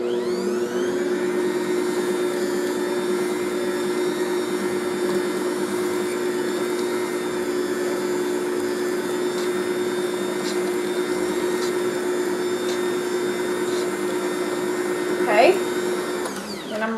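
An electric mixer beats sour cream coffee cake batter with a steady, continuous motor whine that holds evenly throughout, then ends with a brief clatter near the end.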